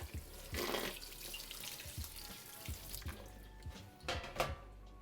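A kitchen tap runs while onions are rinsed, a quiet splashing stream broken by uneven surges and knocks as the bulbs are turned under the water.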